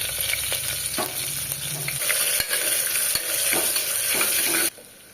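Whole spices sizzling and frying in oil inside a pressure cooker for veg biryani, with steady crackling and occasional stirring scrapes throughout, loud and close, cutting off abruptly near the end.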